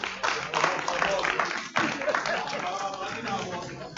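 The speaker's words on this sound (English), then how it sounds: "Can we give them a round of applause as well, please?" Audience applause at an Igbo community meeting in Wales, a steady patter of many hands clapping indoors at moderate distance, with a brief dip midway before the clapping resumes and gradually thins.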